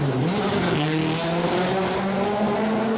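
A Peugeot 208 rally car on an asphalt stage at Rally Ceredigion roars past loudly with a misfire, its engine pitch climbing and wavering in a harsh, continuous drone.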